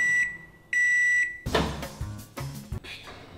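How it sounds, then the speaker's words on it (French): A microwave oven heating a thick cake-like batter beeps in two steady high tones, then its door clatters and handling noises follow with short thumps. "2 minutes au micro-ondes."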